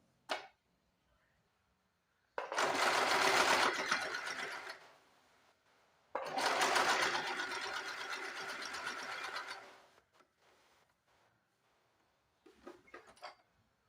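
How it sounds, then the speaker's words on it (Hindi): Sewing machine stitching along the edge of a hook-and-eye strip on a garment: two long steady mechanical runs of stitching, each about four seconds, with short quiet gaps and a few brief clicks of handling at the end. "उसके बाद हम यहाँ से किनारे से सिलाई लगा देंगे।"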